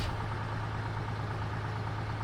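A heavy truck engine idles in the video game SnowRunner, a steady low rumbling drone with constant loudness, close and alone.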